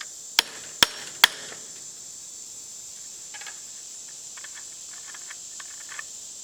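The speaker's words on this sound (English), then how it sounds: "Now you have something solid you can tap on with your hammer that's not going to damage your threads." A hammer taps three sharp, evenly spaced metallic strikes on a nut to free a bolt, followed by softer faint clicks, with steady insect chirping and hiss outdoors in the background.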